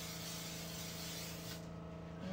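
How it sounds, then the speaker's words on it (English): A steady hiss of hairspray being sprayed close by, continuous for about two seconds before easing off. "So I am gonna spray. All right, so I'm gonna take some hairspray"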